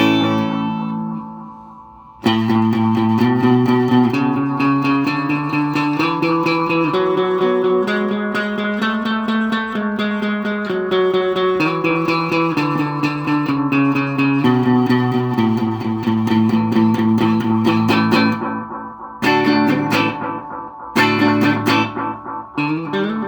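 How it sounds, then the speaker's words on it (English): Catalinbread Montavillian Echo delay pedal on an electric guitar, sustained chords trailing into layered, swirling repeats with a touch of modulation and grit, playing loud and continuous with brief drops near the end. "very vibey echo"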